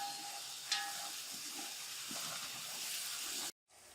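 Potatoes frying in hot oil for biryani give a steady, continuous sizzle with faint stirring, ending abruptly in a short silence.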